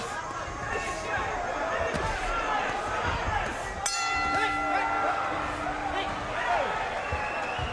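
A boxing ring bell sounds once, midway through, to end round one of a heavyweight bout. The bright ringing clang sits over constant arena crowd noise and excited commentary.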